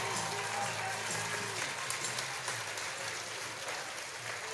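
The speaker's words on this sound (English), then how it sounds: "Toth getting a nice round of applause" A stadium crowd at a softball game applauds for pitcher Melina Toth as she leaves the field, steady clapping spread wide and somewhat distant, with a commentator's voice over the top.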